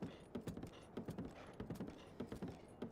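Horse hooves clip-clopping in the Breath of the Wild video game: a steady trotting rhythm of close, crisp hoof strikes repeating evenly throughout, with no talk over it.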